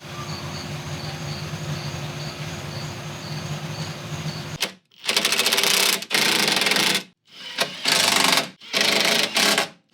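Nuts are run down onto studs while fitting a Jeep TJ transmission mount. A quiet workshop hum gives way to four loud, rapid mechanical whirring bursts separated by short silences.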